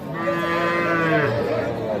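A young calf lets out one long, loud moo up close, its drawn-out call dipping in pitch near the end.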